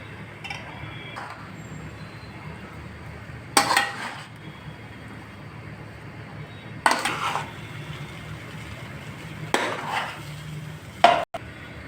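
Rice is tipped into a pot of fried spices and mint and stirred with a spoon, several separate clanks and scrapes against the metal at intervals over a low background hum.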